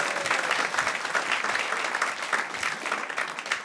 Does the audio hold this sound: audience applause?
yes